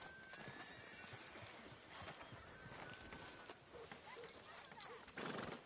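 Horse hooves clop steadily with a few soft whinnies in the Red Dead Redemption 2 video game, set in the frontier town of Valentine. The sounds are quiet and distant, with faint ambient noise around them.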